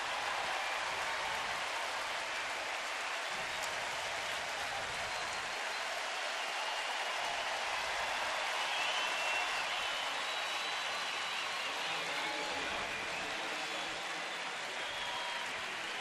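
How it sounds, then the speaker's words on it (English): A Saturday night crowd of over 26,000 at a baseball stadium cheers for the Cleveland Indians against the Astros, a dense, steady roar of voices and clapping that hisses on without a break. "this Saturday night crowd revved up now"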